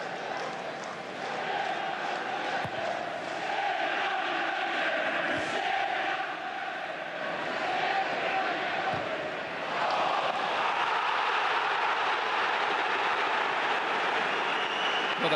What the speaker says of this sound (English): Well, the crowd here absolutely frantic.